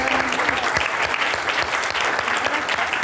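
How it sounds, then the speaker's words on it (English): An audience at a strategy forum panel discussion gives a dense, continuous round of applause, many hands clapping at an even level throughout with no pauses. "so give her a round of applause, please."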